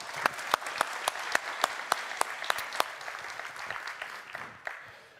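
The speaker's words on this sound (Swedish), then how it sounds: "Jag tycker vi ger en applåd till Mr. Trevor Davies." Audience applause at a talk for Trevor Davies, beginning with a few loud, evenly spaced claps close by, then thickening into a fuller round from many hands before fading out.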